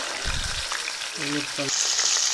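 Steady sizzling of whole quail frying in hot oil, a soft continuous crackle with brief voices talking faintly over it.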